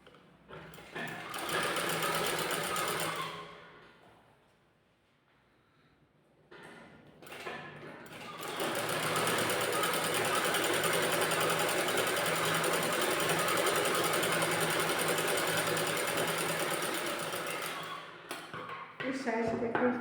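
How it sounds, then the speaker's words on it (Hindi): A sewing machine stitches net fabric for a blouse in a short burst, then pauses, then runs in a long steady whir that stops with a few clicks, close and clear. "तो यहाँ से देखिए बराबर करते हुए इस तरह से हम स्टिच कर"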